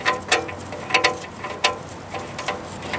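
A bolt is threaded by hand back into place on a 1968 Pontiac, giving a series of light, close, irregular metallic clicks and ratcheting ticks.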